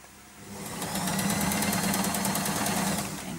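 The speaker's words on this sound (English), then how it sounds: "I do like to do it on the sewing machine" A sewing machine running a short back stitch through a fabric concertina book binding, its motor whirring steadily and rising to a fast, even rattling hum that holds for a few seconds with no one speaking.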